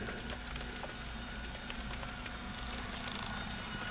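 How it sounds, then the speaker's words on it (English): Sleet falling in Alabama, a faint, steady hiss of tiny icy taps pattering continuously on surfaces, with no voices. "What I thought is rain, that's not rain, that's sleet."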